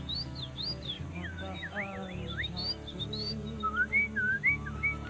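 A person whistles in rising and falling bird-like calls, imitating birds to lure them down from the forest on Mount Sibayak into a trap cage; the close, clear whistled phrases repeat in bursts across the clip with no talk.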